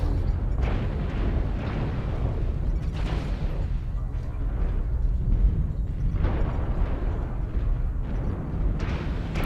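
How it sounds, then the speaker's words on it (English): Repeated missile explosions in a video game, heavy low booms and bursts that rumble continuously across the clip, with some game voice chatter underneath. "Warning, incoming missile."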